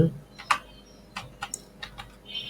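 Fingers tapping a computer keyboard while entering text into Google Slides: a few scattered, quiet, close keystroke clicks at an uneven pace.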